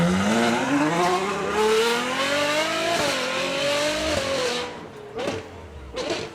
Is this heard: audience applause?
no